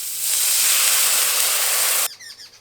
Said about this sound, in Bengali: এবার আমটা সিদ্ধ হওয়ার জন্য জল দিয়ে দেবো।